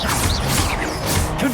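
A Repulsor spell cast in Hogwarts Legacy combat on hard difficulty: a loud burst of crashing, whooshing magical impacts with rising and falling swishes, dense and continuous over about a second and a half.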